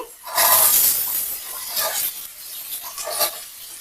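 Carrots and eggs for fried rice are stirred in a wok, making close, rough scraping and rasping strokes with faint clinks and sizzle between the stirs.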